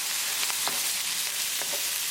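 Green chili frying in a tadka with translucent onions gives a steady, close sizzle and crackle, with a few faint stirring scrapes and no talking.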